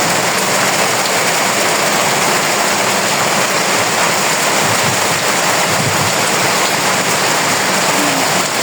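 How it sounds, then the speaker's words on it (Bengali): Heavy rain falls steadily on a rural home after a stormy night, making a dense, unbroken roar that stays loud and even throughout, with no voices. "তারপরে আবার বৃষ্টি নেমে গেল"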